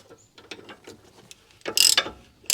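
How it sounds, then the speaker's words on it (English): A ratchet wrench clicks on the front axle of a 2012-era Mercedes ML350 W166, quiet metallic ticks followed by a louder burst of rapid ratcheting and a final short rasp, close and alone. "So I'm going to see if I can do it with the wrench here."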